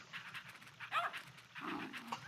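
A puppy in the Nintendogs game on Nintendo DS pants quickly and rhythmically, close and fairly quiet, with a brief brighter yelp-like note partway through and no talking.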